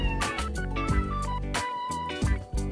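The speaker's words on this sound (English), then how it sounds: "Lucas, no meow, no meow." A cat meows several times, plaintive and fairly loud, over a dense background of music.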